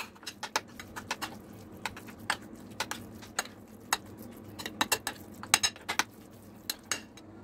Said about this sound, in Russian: Теперь этот фарш нам надо слегка посолить,